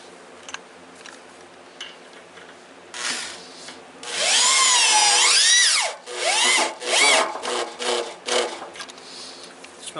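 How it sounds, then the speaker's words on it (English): Milwaukee power drill boring with a step drill bit, quiet whirring at first, then loud close grinding bursts with rising and falling pitch as the bit cuts, several spurts separated by short pauses. "Milwaukee drill has a lot of torque."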